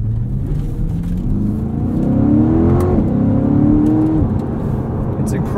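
A 2020 Chevrolet Corvette Stingray Convertible accelerates hard on a cold, slightly wet road on all-season tires, its engine note rising through two loud pulls with a brief shift between them.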